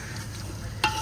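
Potatoes being stirred into fried masala in a pot, a soft continuous scraping stir with faint frying hiss, then a brief sharper clink of the spoon near the end.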